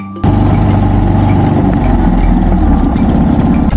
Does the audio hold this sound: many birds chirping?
no